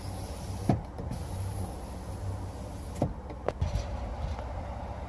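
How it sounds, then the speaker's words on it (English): The power rear window of a 2017 Ford F-150 pickup slides open with a soft steady motor whir inside the cab, broken by a few sharp clicks and clunks as it starts and stops. "It does have the power opening rear window."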